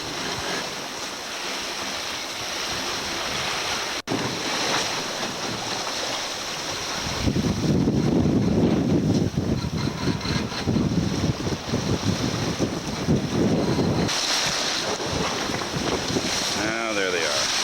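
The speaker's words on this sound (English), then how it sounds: "Sailing away on the water there." Steady wash of ocean water and wind around a sailboat under way on the sea, a continuous broadband rush that swells louder midway, with some talk in the background.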